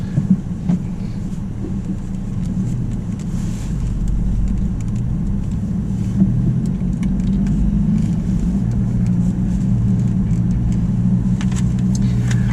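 Steady low engine rumble and road noise from inside a 2023 Acura Integra A-Spec with a six-speed manual as it drives off, continuous and fairly loud with no talk.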